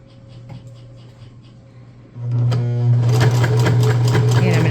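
A sewing machine stitches a rice-filled neck warmer, starting after a quieter hum and running loudly and steadily in a continuous whirring drone.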